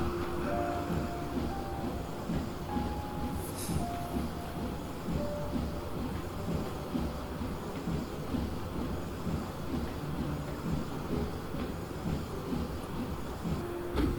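A train pulls away with its coaches in a steady low rumble of rolling wheels and rail noise that holds even and unbroken throughout, with no one talking.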